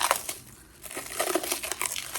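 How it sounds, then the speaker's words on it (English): Cling film crinkles and crackles as it is peeled off a sticker sheet package, a close, bright run of rustling over about two seconds. "it's just cling film. That's good. I can just peel this off because I don't really want to cut it open."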